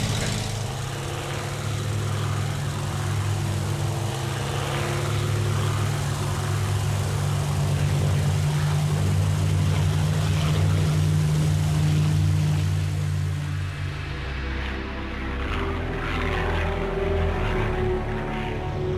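Vintage propeller aircraft, a wartime plane cleared for brake release, roaring steadily at full power on its takeoff run, a loud continuous engine drone that shifts in tone near the end as it lifts into the air.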